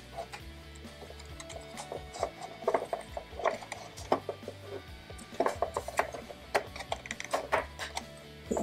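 Film being wound onto the take-up spool of a Bear Photo Service box camera makes quiet, close, irregular clicks and ratchety ticks over a faint background hiss.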